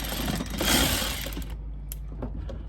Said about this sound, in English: So you're gonna take off the screws.